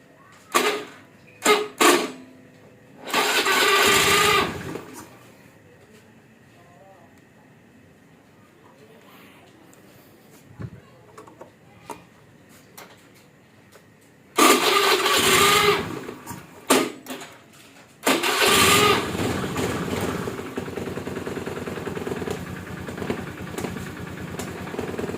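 A motorcycle with a modified relay circuit cranks on its electric starter in short bursts, then catches and runs at a steady idle close by, with a voice speaking at times.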